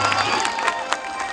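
Crowd at a Khesari Lal stage show clapping and cheering for Akhilesh, a dense burst of applause with scattered shouts throughout.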